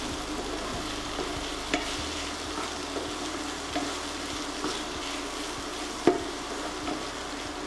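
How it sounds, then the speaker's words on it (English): Ingredients sauté and sizzle in a pan, a steady soft frying hiss broken by occasional scrapes and stirring taps, close and without voices. "again saute all this until it is even."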